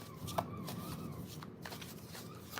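A deck of tarot cards is shuffled close by, soft papery riffling and flicking in quick bursts over a quiet room.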